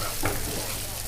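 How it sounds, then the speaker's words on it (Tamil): Chopped capsicum sizzles in a hot frying pan over medium flame for capsicum egg fry, a steady crackle with a brief stirring scrape near the start. "இப்போ நறுக்கி வச்சுருக்கேன் குடமிளகாயை போட்டு வதக்கிக்கலாம்"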